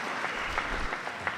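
Steady applause from a tennis crowd in a Chicago vs. Florida match, a continuous wash of clapping at moderate level with no talk over it.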